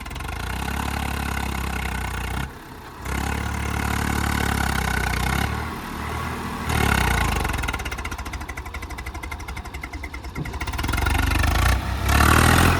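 A tractor engine strains and revs loudly while trying to pull a stuck trolley, a continuous rough drone that rises and falls with several short dips and surges across the stretch.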